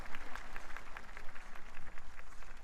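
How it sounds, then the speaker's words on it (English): Applause from the audience at a national inauguration ceremony held on Liberation Day, a steady wash of many hands clapping at moderate distance with no one speaking over it. "with another big round of applause."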